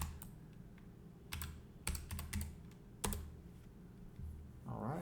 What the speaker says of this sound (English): and then we'll type our password